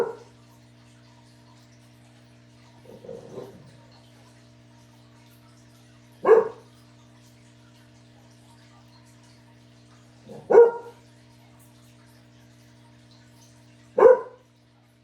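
A dog barks alone, single sharp barks spaced several seconds apart over a low steady hum, with a softer muffled sound early on.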